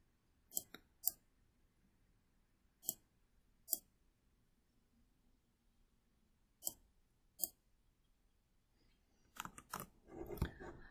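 Computer mouse clicks, heard as crisp paired double clicks spread out in near silence, close and distinct, followed by a brief burst of soft rustling handling noise at the end.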